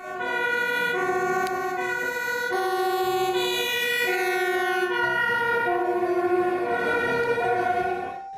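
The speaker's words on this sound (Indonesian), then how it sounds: "Di sini ada mobil pemadam kebakaran." A toy fire engine plays a loud electronic siren whose steady tones step up and down in a repeating wail, running continuously without speech.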